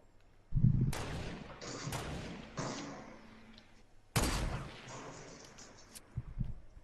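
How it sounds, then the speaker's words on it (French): Gunfire in a multiplayer shooter video game, two sharp loud bursts of shots with rolling echoes around a hilltop battle, each followed by decaying rumble and scattered smaller reports. "il essaie de me tirer dessus en plus"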